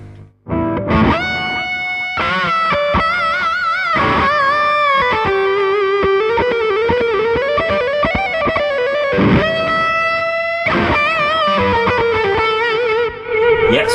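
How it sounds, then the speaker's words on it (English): Electric guitar driven through a Wampler Ecstasy overdrive pedal as a dirty boost, amp gain rolled back, playing loud sustained distorted chords and lead lines continuously for several seconds. "so a nice dirty boost sound there."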